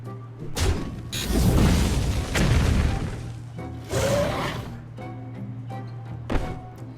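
Bombs explode in the Hearthstone card game, several heavy booms and crashing thuds in succession over a low sustained game hum, loud and close.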